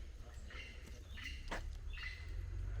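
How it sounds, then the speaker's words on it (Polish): Several birds chirp and call faintly over a low steady rumble at Tikal, Guatemala, short tweets scattered across the moment with no one speaking. "Słyszycie te wszystkie ptaki?"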